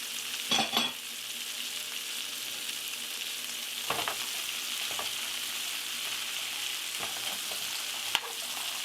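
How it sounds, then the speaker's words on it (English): A skillet of broccoli, potatoes, celery, onion and carrots fries with a steady, even sizzle, broken by a few louder stirring scrapes and clatters near the start, middle and end. "I'm going to cook this for about 10 to 15 minutes, stirring it every now and then."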